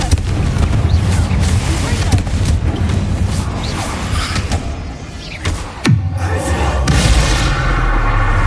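A Confringo spell bursts in the game Hogwarts Legacy amid a loud, continuous rumbling din of booms and crashes, with a sharp whooshing blast partway through.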